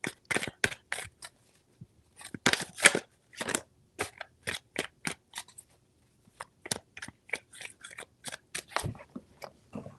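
Tarot cards are shuffled in quick, crisp bursts of riffling and snapping, close and fairly soft, in irregular clusters with short pauses between them.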